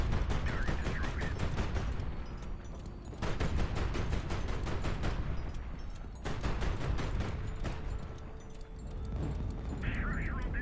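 Rapid rhythmic bursts from 37 mm anti-aircraft guns in the naval combat game High Fleet, several long fast-firing strings of pops over a rumbling engine bed.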